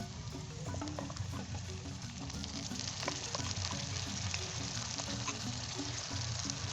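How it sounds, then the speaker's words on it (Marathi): Onion frying in a pan with ginger-garlic paste added for a spicy village-style chicken dish, a steady dense sizzle running throughout with small crackles and stirring knocks, no voices. "आता हा कांदा असा चांगला भाजलेला आहे त्याच्यामध्ये हे आले लसूण पेस्ट घालणार आहे"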